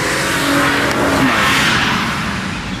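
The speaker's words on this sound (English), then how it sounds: "Speeding in the Lexus. That was an old Lexus too." An old Lexus car speeding past, a steady loud rush of engine and road noise that holds strong throughout and eases slightly at the end, with no voices.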